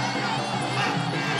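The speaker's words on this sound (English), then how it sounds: "Crowd. Looks like they're getting behind Ahavat" The crowd at a Muay Thai fight cheers and shouts in a steady, dense roar filling the arena, fairly far off and without a break.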